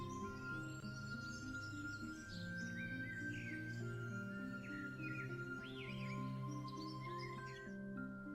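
Countryside birdsong ambience in the video game Pipshire Diary: quiet chirps and warbling tweets scattered over a soft sustained tonal music bed, faint and continuous, with no voices.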